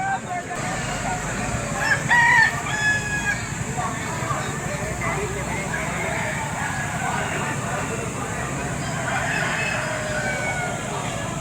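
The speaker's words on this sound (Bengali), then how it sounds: "ছোট সাইজের মানে ছানা সাইজের মুরগি বিক্রি হচ্ছে" Roosters crow and chickens cluck amid a busy outdoor crowd at a poultry market in Bankura, West Bengal, with steady chatter and market bustle throughout.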